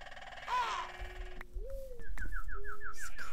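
Birds in a Minecraft-style video game give cooing, dove-like calls and a rising whistled note, then a rapid repeated chirping trill, all fairly close over soft game background.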